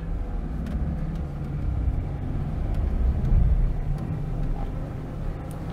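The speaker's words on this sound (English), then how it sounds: "I'm driving an Oltcit" An Oltcit car driving, its engine droning in a low, steady rumble with road noise from inside the cabin, swelling briefly midway, with no talk.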